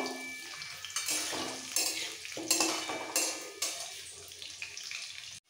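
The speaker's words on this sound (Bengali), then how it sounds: "আলুটাকে দেওয়ার পরে তেলের মধ্যে একটু নাড়াচাড়া করে নেব।" Potato pieces frying in hot oil for sukto, with a steady sizzle broken by several bursts of stirring and scraping against the pan, fairly close and without talk.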